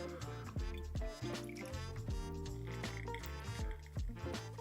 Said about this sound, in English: I'll let a little bit pour off so that the curds actually settle into that coffee filter